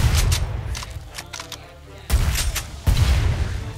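Heavy gunfire and booming blasts in Killing Floor 2 on the Ice Cave map, a loud burst at the start, a lull, then two abrupt powerful shots close together near the end.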